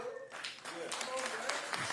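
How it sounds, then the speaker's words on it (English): A crowd applauds at a Ward 8 Councilmember swearing-in ceremony, greeting a fellow councilmember in attendance. Steady clapping fills the room, mixed with scattered voices, and grows denser toward the end. "Give him a round of applause."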